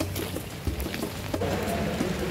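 Rain falls steadily at an outdoor airsoft and reservist military simulation event, with a dense patter that has a few louder drops and splashes and no talk over it.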